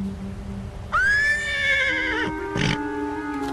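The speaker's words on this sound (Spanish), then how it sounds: "¿No ve que pone nervioso al caballo?" A nervous horse lets out one loud, drawn-out whinny that rises and then quavers down, followed by a brief rough snort, heard up close with no talk.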